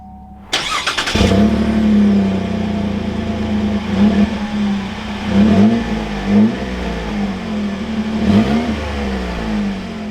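A 2021 Chevrolet Colorado Z71 Rocky Ridge K2 pickup starts with a short starter whir and catches into a loud, close idle, then revs up several times in rising and falling swells before settling back.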